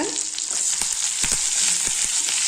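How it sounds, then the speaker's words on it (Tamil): Curry leaves saute in a pan for a chutney, giving a loud, dense, steady frying hiss with soft stirring scrapes scattered through it. "இதை கொஞ்ச நேரம் நல்லா வதக்கலாங்க."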